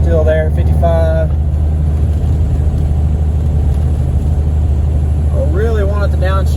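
Cummins diesel pickup towing a large fifth wheel trailer up a 6% grade at 21,000 pounds, a deep steady low engine rumble from inside the cab, with someone talking at the start and end.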